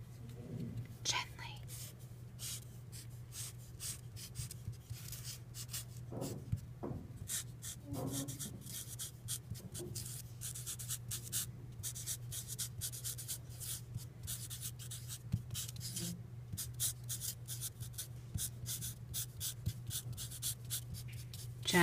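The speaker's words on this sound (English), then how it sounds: "you need to write your name on the back with Sharpie marker" A Sharpie marker scratches and rubs steadily across the back of a styrofoam printmaking plate, close and quiet, with soft whispering over the writing.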